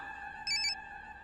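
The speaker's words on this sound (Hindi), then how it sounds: "मुक्ति कपूर का फोन" A phone rings with a short electronic trill, a brief burst of bright tones over a steady background hum.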